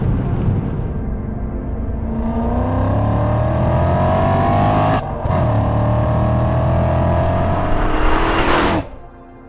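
A BMW M5 E39 accelerating hard, its engine note rising steadily through the gears with a brief shift gap midway, loud and close before cutting off near the end.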